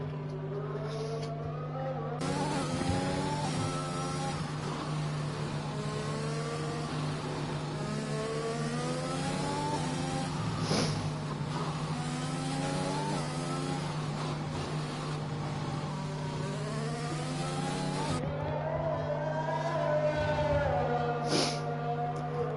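A Williams race car in a racing video game at a Spanish circuit, its engine revving up and down through the gears in a steady, high-pitched whine that stays close and loud throughout.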